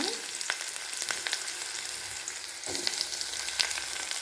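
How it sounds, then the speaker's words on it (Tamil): Onions fry in hot oil with popped mustard seeds, hissing in a constant close sizzle broken by scattered sharp crackles and pops. "கடாயில் எண்ணெய் ஊற்றி கடுகு போட்டு கடுகு பொரிஞ்சிருச்சுங்க இப்போ நம்ம வெங்காயத்தை ஆட் பண்ணிக்கோங்க"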